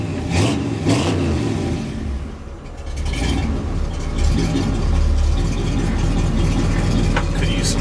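A Chevy 350 V8 in a 1966 C-10 truck revs up and settles, a loud rough engine roar with surging throttle blips, mixed with some background voices and clatter.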